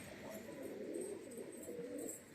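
Pigeons cooing in a hobbyist's loft, a soft, continuous low murmur of several birds close by, with faint chirps above and no talk.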